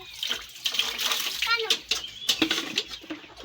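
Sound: water running, being wasted

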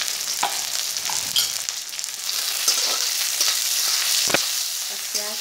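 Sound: onions frying in a pan

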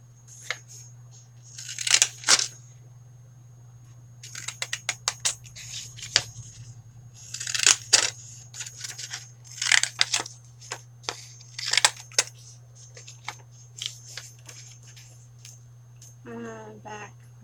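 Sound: scissors cutting scrap paper for a journal

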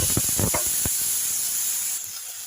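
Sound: chili mixture added to hot oil with garlic, curry leaves

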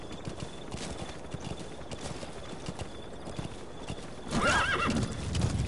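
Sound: horse galloping and neighing in Metal Gear Solid 5 video game

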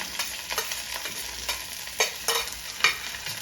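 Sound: onion, garlic, curry leaves, green chilies frying in pan

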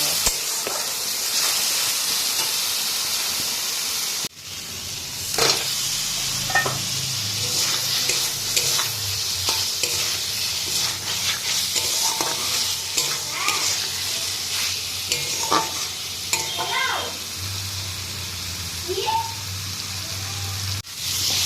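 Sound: frying spice masala with eggs in a pan

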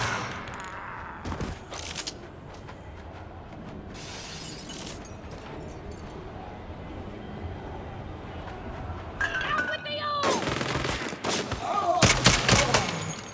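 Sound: minigun firing in the video game Saints Row

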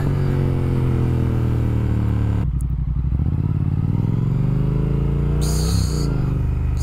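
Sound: Triumph Speed Twin motorcycle accelerating in second gear

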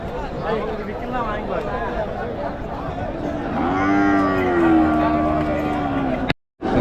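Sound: native cattle lowing at a cattle market

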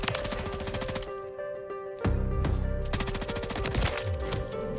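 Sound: LMG machine gun firing in Modern Warfare III video game

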